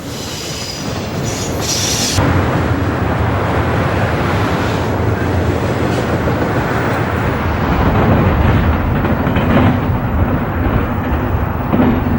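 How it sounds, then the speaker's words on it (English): Conrail intermodal train TV-22 rolls out of Conway yard under a signal bridge, a loud, steady roar of wheels and cars close by with wheel squeal and rail clatter throughout. "Intermodal train TV-22 sprints out of Conway to complete its eastbound journey from Chicago to Baltimore, Maryland"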